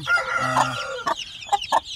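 A mother hen with chicks clucks nearby: a longer drawn-out call followed by several short, sharp clucks spaced apart.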